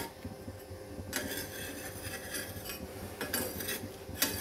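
A metal spoon scrapes a stuck, freshly cooked beef naan out of a pan on the stovetop, with a few sharp scraping strokes standing out over a low, steady background hum.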